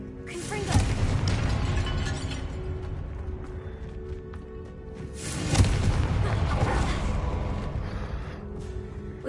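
Confringo fire spell from the Hogwarts Legacy video game, sounding as two loud booming blasts about five seconds apart, each with a rumbling roar that lingers over a steady game backdrop.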